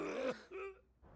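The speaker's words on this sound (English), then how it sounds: "quit choking on the cilantro" A short choking cough on cilantro, two or three rough throaty bursts close up that fade into quiet within about a second.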